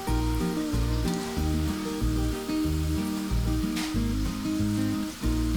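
Okra coated in besan flour frying in oil, a steady crackling sizzle that stays fairly loud throughout, mixed with sustained musical tones in the background.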